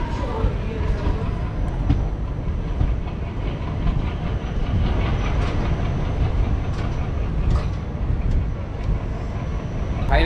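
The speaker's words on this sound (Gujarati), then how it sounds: "હજી અમે સ્ટેશને પણ નથી પહોંચ્યા અને આ ટ્રેન નીકળે છે અત્યારે સામે" A train pulls out of a railway station on a family trip from Gujarat to Goa, a steady broad rumble with rail clatter running throughout, loud and close, with faint background voices.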